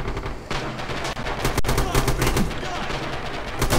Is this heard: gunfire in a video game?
yes